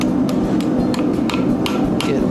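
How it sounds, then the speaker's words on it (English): A light hammer taps a small, delicate metal cloak pin in a smithing setting, giving about seven sharp, evenly spaced strikes over a steady background hum. "I'm using a lighter hammer on this because this is a bit more delicate."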